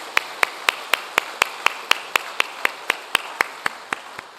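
A church congregation at Suncheon Central Church claps for the Hallelujah choir, a steady run of about eighteen evenly spaced, crisp claps in unison, keeping a brisk rhythm throughout.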